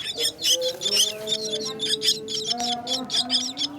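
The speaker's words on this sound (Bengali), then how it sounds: "এই হলো সেই 3টি শালিক পাখি।" Three young myna chicks give rapid, high, thin chirps in quick repeated bursts close by, with a steady faint hum in the background.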